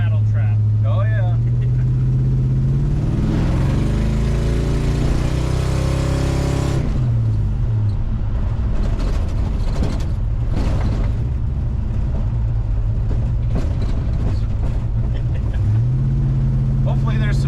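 Old 1957 car driving along a road, its engine droning and rising in pitch under load, then shifting and rumbling on with rattling noises, while people talk inside over the engine.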